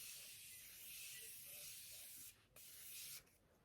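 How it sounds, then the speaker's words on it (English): Morphe setting spray misted onto a face, a steady close broadband hiss lasting a few seconds with two brief dips, no talking. "I'm just going to spray my face with my Morphe spray again"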